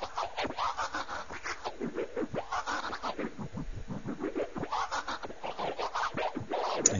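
Turntable-style scribble scratches made with a scratching tool in FL Studio, fast and slow back-and-forth record movements in a steady rhythmic stream, close and alone.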